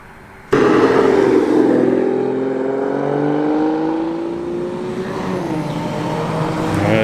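A TVR Griffith or Chimera sports car rolling into a car meet near Blackpool, its engine bursting in loudly and then holding a strong, throaty drone that shifts slowly in pitch as it moves close by, with no talking.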